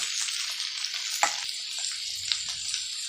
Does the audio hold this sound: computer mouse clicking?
no